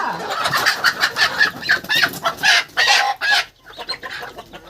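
Desi village chickens cluck and squawk repeatedly nearby in an irregular, busy rhythm, with a few louder rising calls among them.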